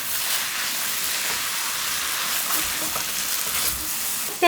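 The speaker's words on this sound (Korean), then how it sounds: "얇게 썰어놓은 양파를 넣어요" Thinly sliced onions hit a pan over high heat for jeyuk bokkeum, Korean spicy stir-fried pork. A loud, steady sizzle runs throughout with no talking, ending in a brief clatter.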